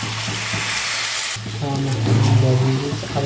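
Chicken and papaya frying in a pan as a little water goes in, a steady loud sizzle that flares brighter after the water is added, with a person talking over it.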